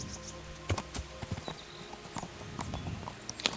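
Rhythmic clip-clop of horse hooves trotting at a steady pace in the video game Kingdom Come, with faint game ambience and an occasional thin tone in the background.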